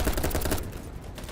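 Rapid automatic gunfire in the game BattleBit, fired from an extended magazine: a loud, dense burst of shots for about half a second, then a quieter stretch with a few scattered pops.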